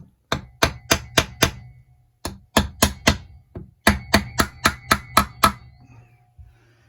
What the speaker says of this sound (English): I've got a steel hammer, but I'm just going to go careful.